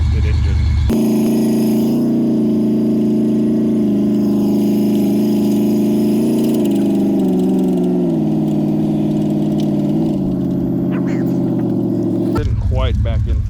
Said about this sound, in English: All the torque of a 350 throttle body injected engine.